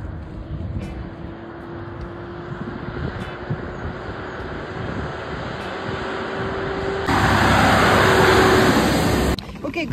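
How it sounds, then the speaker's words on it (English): A truck passing on a road beside someone walking a dachshund, its engine rumble swelling into a loud close rush of road noise before cutting off suddenly, over a steady background of traffic. "look at this truck"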